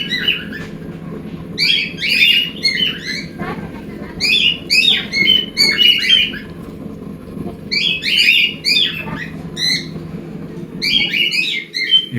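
Cockatiels in a breeding setup give repeated bright chirps and squawking calls in clustered bursts over a low background hum, near and fairly loud, with quiet gaps between flurries.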